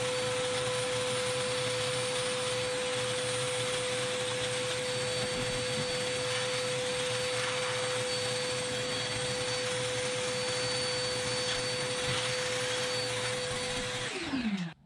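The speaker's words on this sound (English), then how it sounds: "So I'm gonna use my vacuum here to try to catch most of the shavings." A shop vacuum catches drill shavings near the engine intake of an LS-swapped Chevy Luv, roaring steadily and close with a constant whine, then spooling down at the end.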